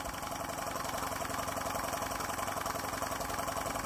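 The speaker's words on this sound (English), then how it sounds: "Always fun running a baker fan. They do put a good load on an engine." A miniature Graham Industries VR1A double-acting steam engine drives a Baker fan from the largest step of a brass three-step cone pulley under heavy load, giving a steady, close, continuous mechanical whir and clatter with no talk.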